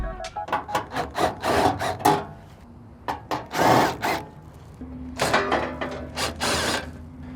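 Screws are driven out of the hopper side panel of a Camp Chef XXL Pro pellet smoker with a power tool, giving a series of short bursty whirs and rattles with brief pauses between them, close and moderately loud.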